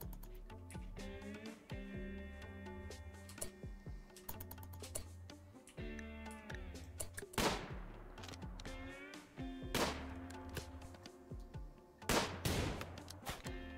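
Sharp gunshots in the RimWorld colony game, a few loud isolated cracks over a busy bed of clicking interface and tonal game music, with no talking.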